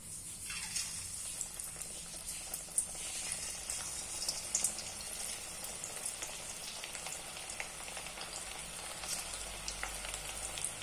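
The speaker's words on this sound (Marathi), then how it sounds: "मंद गॅसवर भजी तळून घ्यायची." Steady, soft crackling and bubbling of onion fritters frying in hot oil over low heat, an even sizzle that continues without pause and with no voices.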